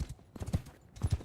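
Horse hooves clip-clop through snow in Mount & Blade II: Bannerlord, a few close, heavy, uneven steps in two quick clusters separated by a short gap.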